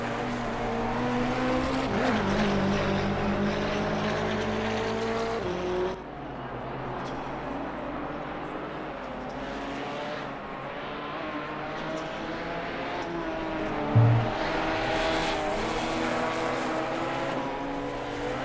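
Race car lapping Oulton Park at full attack during qualifying, its engine droning loud and steady with harmonic pitch sweeps through gear changes and braking, no talk over it.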